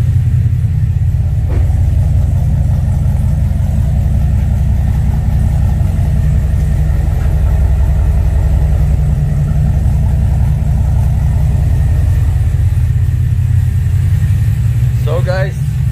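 A Cadillac CTS-V with a Jokerz Performance ported supercharger running, a loud, deep, steady engine rumble close by, with a voice talking over it and a brief squeak near the end.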